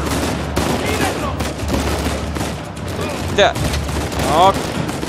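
Rapid bursts of gunfire from the video game Uncharted 4 crackle in quick succession while a player talks and swears over the shooting, with a couple of sharper shots standing out.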